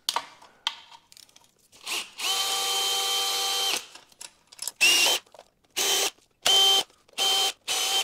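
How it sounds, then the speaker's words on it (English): A power drill removing bolts from a BMW M54 engine whirs in a long sustained burst, then several short, loud bursts with pauses between them, with faint clanking tool noise early on. "We're just gonna crack them loose and then use a drill for the rest."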